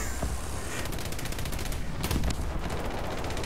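A 20mm Oerlikon cannon in the video game War Thunder fires rapid bursts, a quick string of sharp, evenly spaced shots with a heavier cluster near the end, heard fairly quietly.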